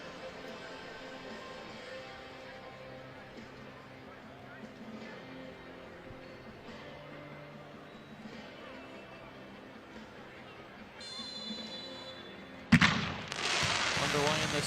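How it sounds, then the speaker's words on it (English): Fireworks go off at an FC Tulsa versus Las Vegas Lights FC soccer match, with a sudden loud burst near the end followed by crackling noise. Before the burst, a steady commentary voice runs over the crowd. "Underway in the second half with the fireworks going off."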